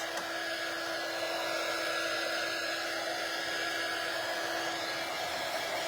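A hair dryer runs steadily and loudly throughout, drying a craft project, a constant airy whoosh with a fixed whine and no pauses.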